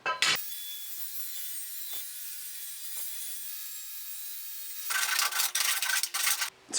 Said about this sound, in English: So I've scribed all of these exactly down the centre. I'm now going to cut all 5 of these in half.